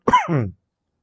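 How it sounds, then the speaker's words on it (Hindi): A single short, rough cough, close and loud, then silence. "आज खांसी बहुत आ रही है"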